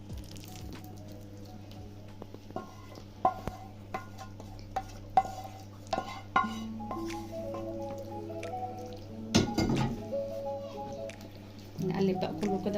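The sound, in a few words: stirring moussaka vegetables with sauce in a pan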